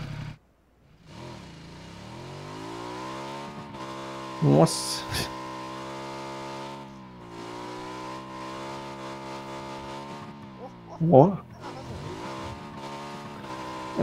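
A motorcycle or scooter engine drones steadily in a quad racing video game, with two brief louder bursts like crashes or impacts, while someone talks briefly over it.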